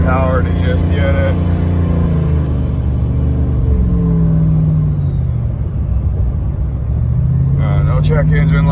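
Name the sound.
lifted Ram 1500 Hemi truck engine accelerating while driving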